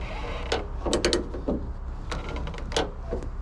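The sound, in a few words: 32mm ratchet tie-down bar mechanism clicking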